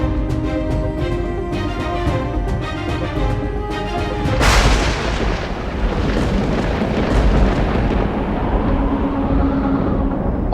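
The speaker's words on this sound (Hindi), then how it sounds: "बादल गरज रहे" Thunder rumbles from clouds as a deep, loud, rolling roar that swells about a third of the way in and keeps churning to the end. Music plays first and fades under it.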